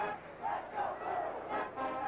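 A 1988 football crowd of over a hundred thousand at a Michigan Wolverines home game against Miami chants in steady rhythmic bursts, heard distant and faint as a swelling, pulsing roar.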